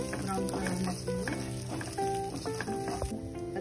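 Cumin seeds and green chilies sizzle and fry steadily in a hot pan for a home-style ajwain leaves chutney, a continuous crackling hiss with small stirring clatters, close and fairly loud.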